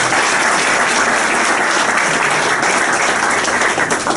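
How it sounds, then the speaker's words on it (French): A crowd at a political gathering in the Democratic Republic of the Congo claps vigorously, a loud, dense and steady burst of applause filling the space without pause. "Voilà, donc, faut l'applaudir."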